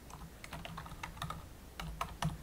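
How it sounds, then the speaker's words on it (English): Light typing on a computer keyboard while entering labels sideways in an Excel frequency table, a quiet, irregular run of soft key clicks with brief pauses, close up and with no talk. "You have to type sideways."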